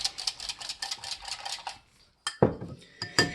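A whisk clicks rapidly against a bowl while egg and milk are beaten together for apple streusel muffins, a busy rhythmic tapping that stops briefly before a sharp clink and a few more scrapes.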